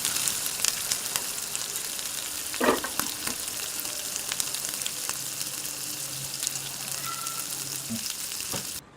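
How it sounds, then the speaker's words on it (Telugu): Ivy gourd and moong dal fry in a pan on the stove, giving a steady close sizzle with crackles and a few stirring scrapes, and no talking. "దొండకాయ పెసరపప్పు వేగింది చూడండి."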